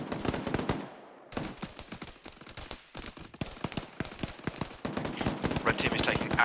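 Rapid gunfire in a military shooter game, with automatic bursts and sharp single cracks in dense, uneven volleys, pausing briefly before resuming.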